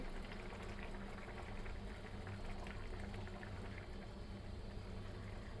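Khichuri with dal simmering in a pot gives off a steady, continuous bubbling boil, a dense even wash of sound that holds at the same moderate level throughout with no talk.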